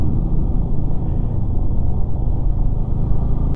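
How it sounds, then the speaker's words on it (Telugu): Traffic on a narrow, crowded road on the way from Manali to Delhi, heard as a loud, dense, continuous low rumble of nearby engines, with no voices. "చిన్న రోడ్ కదా, వెహికల్స్ ఎక్కువ కాబట్టి ట్రాఫిక్ అయిపోతుంది"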